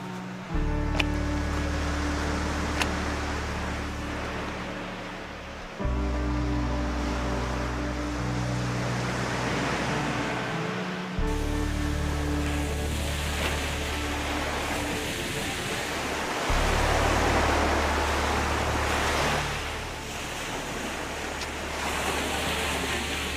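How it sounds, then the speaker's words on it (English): Ocean waves along the Lycian Way coast give a broad, steady roar of surf heard from a hiking trail, mixed with low rumbling gusts of wind on the microphone that start and stop in bursts. "Can you already hear the sound of the waves?"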